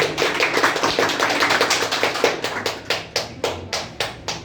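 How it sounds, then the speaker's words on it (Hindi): A group claps for a student at a gathering about typing and efficiency training, the claps dense at first, then thinning into slower, separate hand claps that fade out. "थैंक यू योगिता, एक बार इनके लिए जोरदार तालियां बजाओ"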